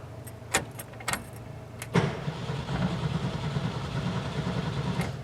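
A 1972 VW Bus with a no-run fault and an oil leak cranks: a few sharp clicks and clunks, then the engine catches briefly with a rough, close mechanical rumble that holds unevenly.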